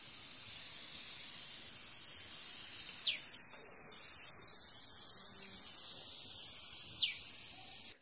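A can of spray varnish hisses continuously onto a painting, a steady airy spray held through the whole stretch with slight swells, close and moderately loud, no voices.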